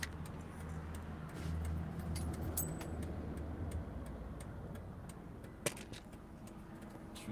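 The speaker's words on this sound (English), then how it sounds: "Just recording some traffic." Street traffic rumbles steadily with a low engine drone and passing vehicle noise, a single sharp click near the end, no talking.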